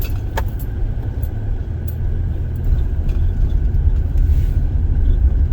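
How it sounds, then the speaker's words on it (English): Ford Mustang engine rumble in traffic, a low steady growl heard from inside a passing vehicle, mixed with road noise and a few small rattles and clicks, continuous and fairly loud, no speech. "That Mustang sounds good."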